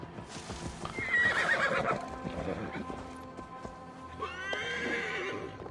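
Two whinnying neighs from a horse in the video game Assassin's Creed Valhalla, each rising then trailing off, with hoof clip-clops and game sounds faintly underneath.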